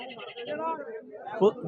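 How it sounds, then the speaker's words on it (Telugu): Goats at a weekly Saturday livestock market in Dubbaka give a short bleat near the end, heard under steady nearby talking. "యాభై మేకలు ఉన్నాయండి యాభై మేకలు ముప్పై పిల్లలు ఉన్నాయి"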